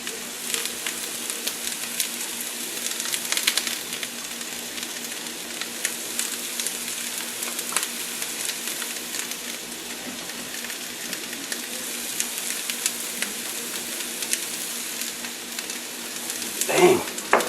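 Green and red peppers with onions sizzle and fry steadily in a pan for bratwurst, a continuous moderate crackle with a brief louder burst near the end, no talk over it.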